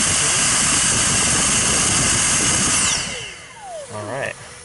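A Dyson V6, V7 or V8 cordless stick vacuum runs with a loud, steady whooshing roar, then winds down over about a second with a falling whine and faint handling noises.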